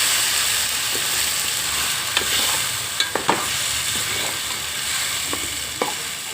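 Paneer curry frying in a pan at home, stirred with a spoon, giving a steady hiss with a few sharp scrapes and taps of the utensil against the pan.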